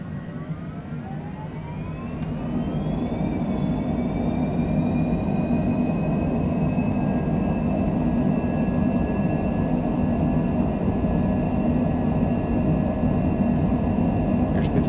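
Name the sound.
airliner jet engines on takeoff roll at Chicago Midway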